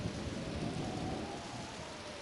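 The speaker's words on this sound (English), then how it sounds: "apparently a big storm and something weird is happening" Thunderstorm and rain on a stormy sea in Pokemon Mystery Dungeon Explorers of Time, steady loud hiss of rain with low rumbling thunder underneath, no voices.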